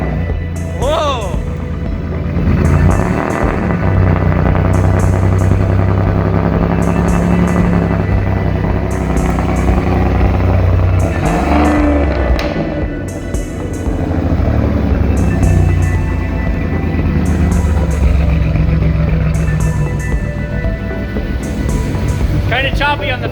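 Turbocharged car engine fitted with an AMR turbo kit, Y-pipe and Flowmaster catback idling cold after startup, a loud, close, slightly choppy rumble throughout, with people talking over it.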